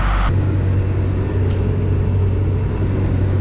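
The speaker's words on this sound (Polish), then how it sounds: "jadę ciągnikiem już wiecie" A Deutz tractor engine driving on a road, a steady, loud, close low diesel rumble with a constant droning hum and no pauses.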